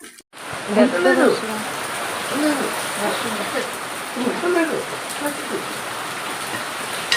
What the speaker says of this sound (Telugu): బయట అయితే బాగున్నాయి పాపం వర్షం పడతా ఉంది